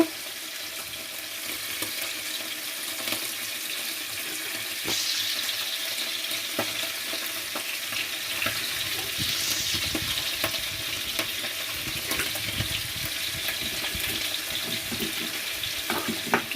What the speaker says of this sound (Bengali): তেল দিয়ে দিলাম, এখন পেঁয়াজটা দিয়ে দিব